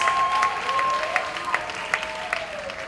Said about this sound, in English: Another round of applause, ladies and gentlemen, for the Arden High School drummers.